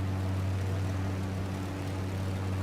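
A light propeller aircraft's engine drones at a steady throttle setting in Microsoft Flight Simulator during touch-and-go flying in New Zealand, a loud, even, continuous hum with no talk.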